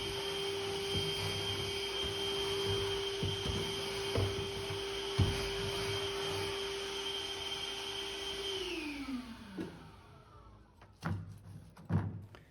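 Vacuum cleaner running steadily over a freshly sanded painted surface, a constant whining drone with occasional bumps, then the motor winds down and a few knocks and thuds follow.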